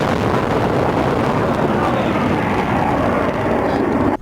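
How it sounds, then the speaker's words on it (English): Airplanes passing over near Newark Airport in New Jersey, a loud, steady, broad roar like rushing wind that holds throughout and cuts off abruptly at the end. "there is planes flying by"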